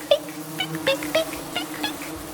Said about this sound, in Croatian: Sve pčele podigle su se s cvijeća i pojurile prema Medi